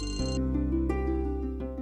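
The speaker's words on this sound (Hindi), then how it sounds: "पीची का फोन।" A phone ringtone plays, a bright electronic melody with a steady low hum beneath it, close and uninterrupted.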